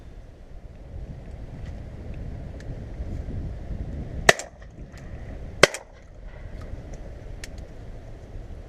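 Two sharp shotgun reports ring out over decoyed pigeons in an open field, spaced about a second apart, loud and close above a steady wind-blown background.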